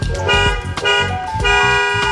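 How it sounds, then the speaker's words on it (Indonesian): A BMW-style car horn fitted to a Toyota Fortuner GR Sport 2.8 honks in loud, close, tonal bursts, a few short toots in quick succession with no one talking. "Kita coba klaksonnya, ini pilih yang BMW."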